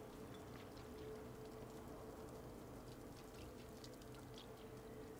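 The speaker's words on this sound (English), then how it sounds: "You can hear the water." Steady running water in the video game Stray, a soft continuous wash with faint drips and splashes, moderately quiet and heard alone without talk.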